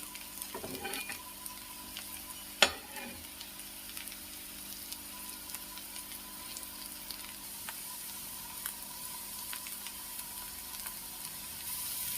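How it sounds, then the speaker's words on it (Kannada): Bitter gourd slices fry in oil in a pan with a soft, steady sizzle throughout, broken by one sharp clink of a utensil early on and a few light stirring scrapes, with no talking. "ಈಗ ಆವಿಕಾಯಿ ಎರಡೂ ಕಡೆ ಫ್ರೈ ಆಗ್ತಾ ಇದೆ"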